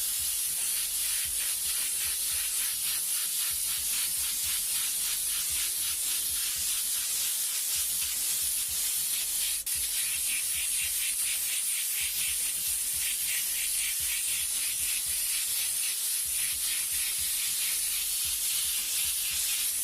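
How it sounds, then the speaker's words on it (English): Airbrush spraying white paint, a steady close hiss of air and paint running continuously with slight pulsing and short dips throughout. "now we'll take the white and we'll spray it all in there"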